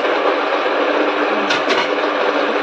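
Loud, continuous mechanical whirring and grinding roar from a nearby electric home flour mill grinding wheat, steady throughout with a brief clatter midway.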